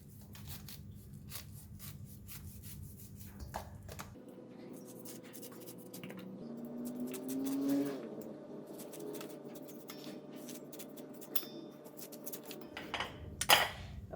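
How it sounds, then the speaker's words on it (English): A knife slices fresh corn off the cob into a large container, soft repeated scraping and cutting strokes, faint and close, with occasional light clicks and knocks. "To cut the corn right, I will cut it into a large container and we will just slice it down just like that"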